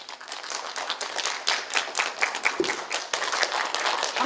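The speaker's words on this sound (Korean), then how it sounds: "큰 박수로 모시겠습니다" An audience at a volunteer event in Sejong applauds to welcome a speaker, with loud, steady clapping from many hands filling the hall throughout.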